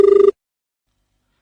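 A telephone call ringing through to a farming advice radio phone-in show: one short, pulsed electronic ring tone, loud and close, lasting a third of a second before silence.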